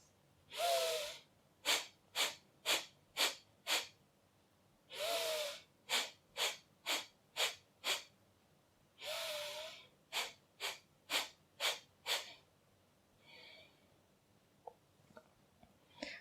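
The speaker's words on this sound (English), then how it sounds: "Then next one is Kapalbhati. Breathe in and multiple times exhale out air." Kapalbhati breathing: three rounds, each a long inhale followed by five or six sharp, forceful exhalations through the nose in a quick rhythm, close and clear in a quiet room, then softer breaths at the end.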